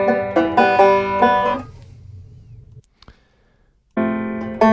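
Open-back banjo picked in a quick run of bright plucked notes that ring and decay, then a pause and a fresh strum, recorded at home through an iPhone microphone, close and clear.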